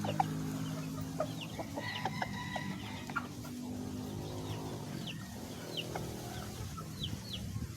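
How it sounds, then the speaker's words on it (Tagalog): Chickens cluck and murmur steadily, with occasional higher chirps scattered over a low, continuous farmyard hum. "at tingnan natin yung ibang natin manok"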